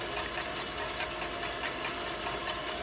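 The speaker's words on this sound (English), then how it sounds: "Right now the mixer is on 4, and I am using, as you can see, my stand mixer for this." A stand mixer running at speed 4 beats a fruit cake batter of sugar and butter, giving a steady, dense whirring hiss with a faint rhythmic churn throughout, close and even.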